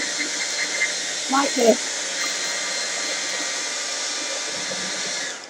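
A hair dryer blows on its third speed setting with no nozzle or adapter, giving a steady, loud, even rushing hiss throughout while a person speaks briefly over it near the start.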